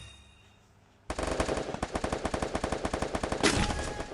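Rapid automatic gunfire in the video game Free Fire bursts in after a quiet moment, a loud, dense string of shots rattling steadily for about three seconds with a brief louder swell near the end.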